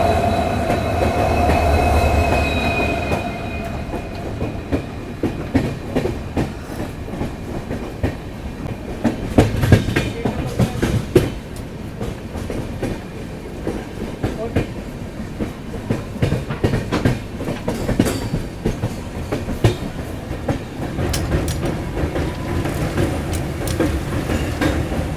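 A passenger train with a Vistadome coach climbs the Sakleshpur–Subramanya ghat with a banker pushing from behind, a steady rolling rumble with repeated clickety-clack of wheels over rail joints and occasional faint squeals.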